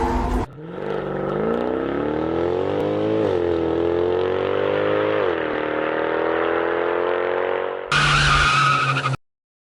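Motorcycle engine in an animated drama, a loud sustained high rev with steady rising pitch sweeps, cut off abruptly and followed by a short burst of a different roar before silence.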